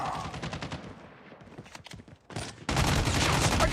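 Gunfire in the mobile shooter Call of Duty Mobile: rapid automatic bursts crackle throughout, thinning briefly midway before a loud, dense volley of shots fills the final second, with faint game voice lines mixed in.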